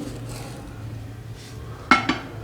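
Khoya and sugar being mixed in a pan, with quiet soft scraping and then two distinct clinks of a metal spoon against the pan.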